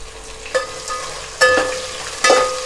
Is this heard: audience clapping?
no